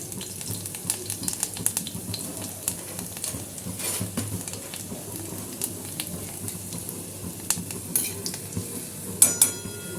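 Crushed garlic cloves and a few fenugreek seeds sizzle in hot oil for a Maharashtrian kadhi tadka, a soft steady crackle near the pan broken by occasional sharp clinks and stirring scrapes, with no talk.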